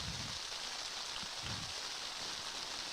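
Rain falling during a baseball playoff game, a steady, soft patter of drops on surfaces with faint low thumps underneath, quiet and continuous, no speech.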